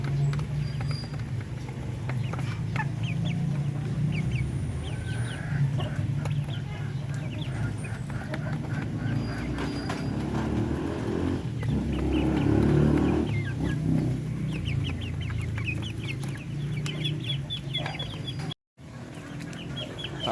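Native darag chickens cluck steadily in a coop alongside ducks and young chicks, soft repeated clucks and chirps over a constant low hum, fairly close, with no one talking.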